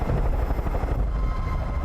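A helicopter in the video game Far Cry 5 thrums steadily and loudly throughout, a dense, continuous rotor and engine roar with no speech over it.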